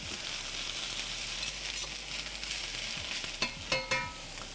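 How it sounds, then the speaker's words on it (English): Cabbage sizzles and browns steadily on a Big Green Egg for a German pork hock meal, a constant hiss with a few sharp scrapes and clinks near the end as the pieces are stirred or flipped. "The bottom cabbages are getting browned. We'll give them a flip."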